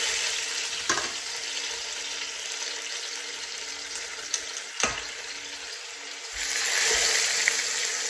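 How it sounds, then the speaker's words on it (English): Lamb shanks browning in hot oil in a Dutch pan, a steady close sizzle and fry with a few clanks and stirs. The sizzle grows brighter and louder near the end, and nobody speaks. "So I've got my Dutch pan nice and hot with a little bit of oil. Now we're just going to brown these off"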